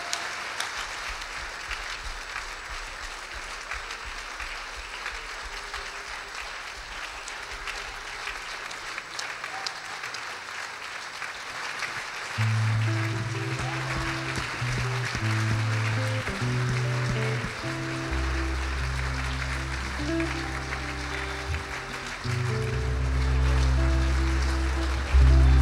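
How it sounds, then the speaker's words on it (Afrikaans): Audience in a church applauding children, steady clapping that builds into a sustained round, joined partway by a loud low organ or keyboard playing along. "Kom ons gee vir hulle 'n lekker hande klap."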